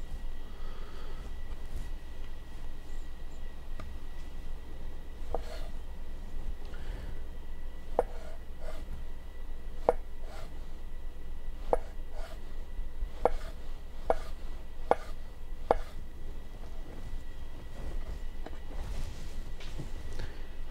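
A Rada knife slices cooked carrots into wedges on a cutting board, producing a series of crisp, separate chops spaced irregularly over a low steady hum, close and moderately loud.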